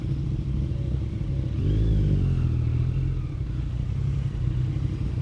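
A Ducati Panigale 959 sport bike's engine idling nearby with a throaty, ragged burble, swelling briefly as the throttle is blipped before settling back to a loud steady rumble.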